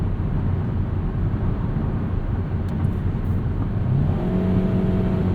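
A 2020 Kia Soul X-Line accelerating to pass, heard from inside the cabin as a steady, loud low engine and road drone that rises slightly in pitch near the end.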